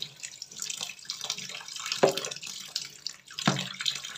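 Water runs steadily from a kitchen tap while soursop is peeled beneath the stream, a continuous splashing hiss with brief louder gushes as the fruit moves under the flow.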